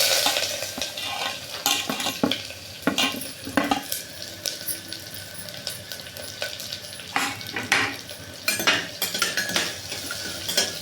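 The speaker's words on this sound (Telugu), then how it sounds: "బాగా వేగనివ్వాలి. ఉల్లిపాయ ముక్కలు, పచ్చిమిర్చి ముక్కలు వేసుకోవాలి." Onion and green chilli pieces fry in a pan with mustard seeds, giving a steady close sizzle broken by repeated scraping and clinking of a spoon stirring against the pan, with no talking.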